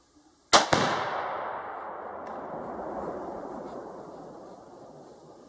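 Outdoor 5.56 rifle shot detonating a quarter-pound Tannerite target: a sharp loud double crack followed by a long rumbling echo that slowly fades.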